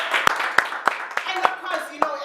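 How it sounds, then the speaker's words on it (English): Small audience giving a round of applause at a talk show, several distinct sharp claps spaced irregularly across a couple of seconds with some voices underneath. "Yeah, Nditi, round of applause."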